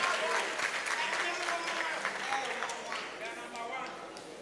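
Applause at a university gas challenge quiz grand final, lively clapping from the audience with voices talking underneath.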